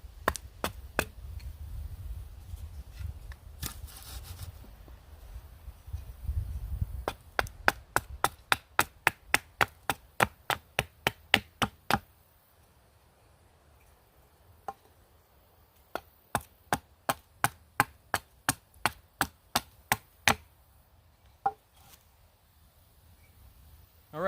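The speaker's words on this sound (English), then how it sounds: "planed the top and bottom with a hatchet" A hatchet chops and planes a split cottonwood piece flat for a hand drill set, with sharp wooden knocks in steady bursts of rapid repeated strikes and pauses between them, close and fairly loud with no speech.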